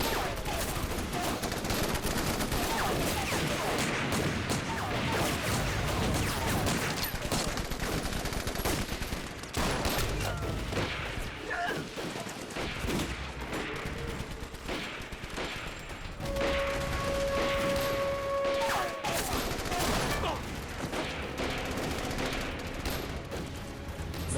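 Continuous gunfire from a battle scene in a war film against Japanese forces, with dense overlapping shots under a loud, constant din. A sustained tone enters partway through.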